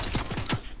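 A few quick gunshots in a video game ring out in a short rhythmic cluster, moderately loud with no talking over them.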